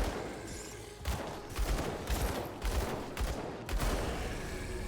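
Pistol fire in the action RPG Grim Dawn, with several sharp shots spaced about a second apart over steady combat noise, moderately loud.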